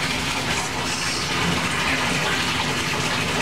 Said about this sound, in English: I'm going to go shower now